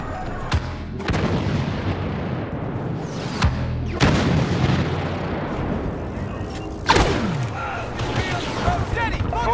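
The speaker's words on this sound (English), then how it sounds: "Bombers are making their attack run." Explosions from a bombers' attack run in the Star Wars Battlefront Walker Assault game, heavy booms and blasts rolling through steady battle noise, with strong bursts near the start, middle and around seven seconds, under talk.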